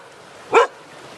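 A single sharp dog bark at a lakeside backcountry canoe campsite, loud and close, standing alone against quiet background.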